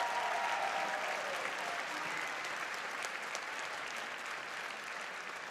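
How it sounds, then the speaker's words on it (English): An audience at a winter band showcase concert applauds two student musicians, one on flute and one on trumpet, with steady, evenly sustained clapping that fades slightly toward the end. "Let's give them a round of applause."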